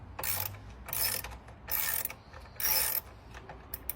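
A 10 mm wrench loosening the battery bracket on a 2014 Honda Odyssey, heard as four short bursts of ratcheting clicks separated by pauses, close and crisp, with no talking.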